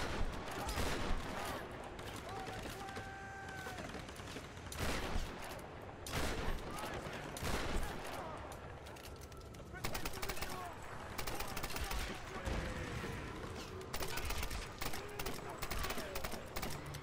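Rapid bursts of gunfire from incendiary rounds in the Tomb Raider video game, loud and repeated in clusters across the whole stretch, with brief pauses between volleys and occasional talk underneath.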